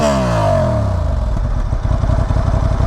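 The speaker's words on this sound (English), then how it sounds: "That is such a good sounding exhaust. It's a stock exhaust." A 2023 Honda Hornet motorcycle on its stock exhaust, revved hard at close range and then settling into a loud, lumpy, pulsing idle, with no voices.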